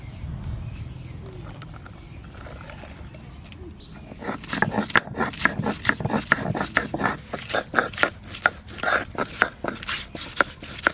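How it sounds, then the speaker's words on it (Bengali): Ginger and garlic are ground on a grinding stone, starting quietly and then becoming a rapid run of loud, rhythmic scraping strokes. "আদা আর রসুন বেটে নেব"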